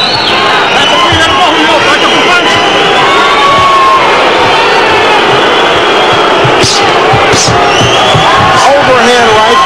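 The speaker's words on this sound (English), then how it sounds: "The crowd voicing their opinion." A boxing arena crowd cheers, whoops and shouts continuously during a fight, a loud dense roar of voices with scattered sharp yells rising above it.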